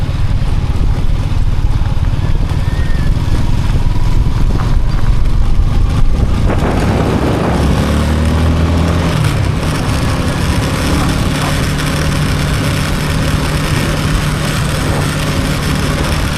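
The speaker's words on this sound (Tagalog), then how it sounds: "yung motor ni Kabungot" A motorcycle engine drones steadily as it rides over a mixed rough road and cement surface, a loud, continuous close rumble with wind buffeting and jolts, and the note shifts lower partway through.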